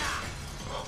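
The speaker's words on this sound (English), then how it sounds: "That's glass." Glass shatters in an anime fight scene, a bright crashing burst that fades into a busy, loud mix over its single second.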